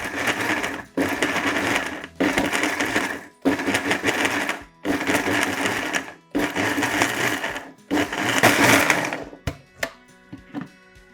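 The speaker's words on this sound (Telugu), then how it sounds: "ఇలా మిక్సీ పట్టారు కదా." A mixer grinder coarsely pulses tomato chutney in a kitchen, running in seven loud whirring bursts separated by brief pauses, followed by a few short clattering taps at the end.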